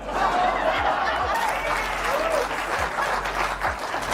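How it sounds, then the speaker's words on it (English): Studio audience applause on a talk show, dense clapping mixed with a few chuckles, loud and continuous for the whole stretch. "Terrible that you would applaud that."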